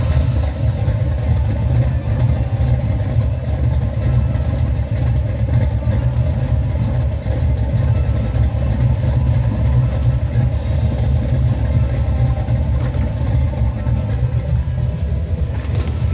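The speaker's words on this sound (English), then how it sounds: "The engine doesn't sound too radical, but that's fine." A 1973 Dodge big block Mopar V8 with a hydraulic flat tappet cam runs steadily, a loud continuous low rumble with no talking.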